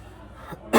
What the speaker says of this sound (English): I'll even cough to make it work.